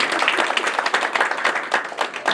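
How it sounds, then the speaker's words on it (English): A full-house audience at a meeting claps in sustained, dense applause, close and loud, with no talk over it. "Can you give yourselves a clap for that?"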